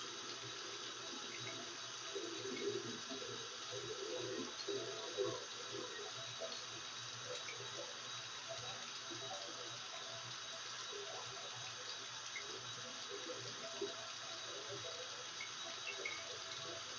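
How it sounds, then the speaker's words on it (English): Steady tap water runs into a sink for hand washing while a bandaged hand is kept dry, a constant moderate splashing rush with small fluctuations and no talking. "I'm going to wash my hands again without getting the bandage wet"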